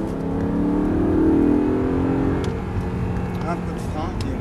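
An Audi R8 accelerating hard on a race track, a loud steady engine drone with a rising note, heard from inside the car while someone talks over it.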